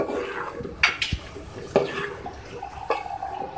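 A spoon scrapes and clinks against a pan in intermittent strokes, mixing spices with ginger-garlic paste, with soft wet stirring sounds between the metallic knocks.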